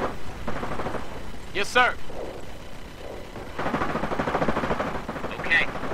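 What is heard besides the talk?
gunfire in Company of Heroes video game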